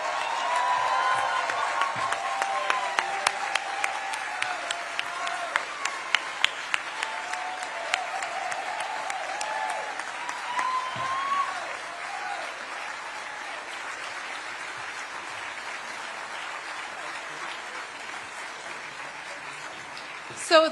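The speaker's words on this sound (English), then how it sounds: "Let's give them all a huge round of applause." A large crowd at a state Democratic party convention applauds at length, a dense wash of clapping that starts strong with a few sharp nearby claps, then slowly thins and fades over about twenty seconds.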